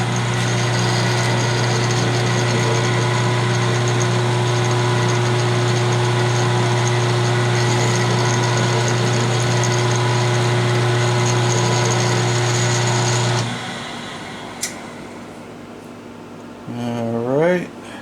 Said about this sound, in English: I've got the plate mounted in the milling machine. I've got a 3/8 spotting drill